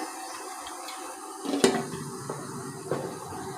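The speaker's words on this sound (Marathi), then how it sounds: "आणि मग यावर ती प्लेट ठेवूया ज्यामध्ये आपण मिश्रण ओतलेलं आहे" A metal plate of dhokla batter is set onto a stand inside a steamer, giving one sharp clank with a short metallic rattle, followed by faint knocks over a low background hiss.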